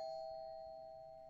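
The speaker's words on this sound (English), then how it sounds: "Why are you ringing the doorbell, stupid?" A doorbell in the horror game Fears to Fathom rings once, a clear sustained electronic tone that holds and slowly fades, alone and fairly quiet.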